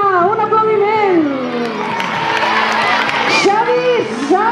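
A school singing event crowd cheers and whoops for the musicians, with children shouting and scattered applause in a loud, continuous wash of voices and a tonal voice line riding on top.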